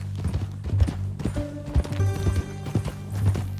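Horse hooves clip-clop in an uneven rhythm in Red Dead Redemption 2, close and fairly loud, with a brief whinny-like tone near the middle over a low rumbling backdrop.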